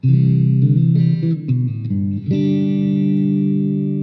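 A Squier Stratocaster electric guitar with bridge and neck pickups on together plays a few overdriven chords with a thick, distorted tone, ending on a sustained ringing chord.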